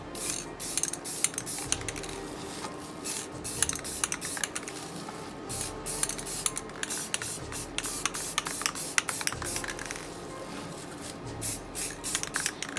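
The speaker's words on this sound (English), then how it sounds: "With any spray paint, make sure you shake very well, especially the clear one" A spray can of clear coat rattles and hisses in repeated short bursts close by, with clicking mechanical sounds and no talking.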